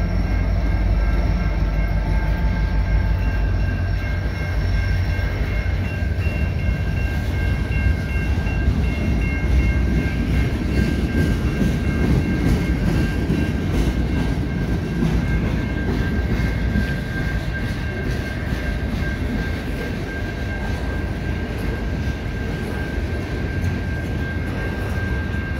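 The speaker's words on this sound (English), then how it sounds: "This is a westbound freight." A CN westbound freight train passes on a rainy evening, with a steady loud rumble and faint clatter of wagons that holds throughout and fades slightly toward the end.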